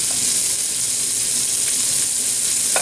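Onions frying in oil and pan drippings after browning country style steak, a steady, loud, bright sizzle with even hiss and no pauses throughout.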